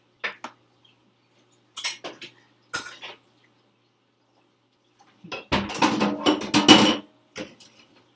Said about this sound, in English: we should grab out the colander